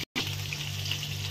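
Pieces of banana flower frying in hot oil, giving a steady close sizzle with a low bubbling hum and no voices.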